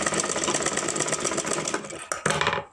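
A sewing machine runs a stitch along a folded pleat on a blouse, with a fast, even mechanical whirr close by that pauses briefly, restarts and then stops.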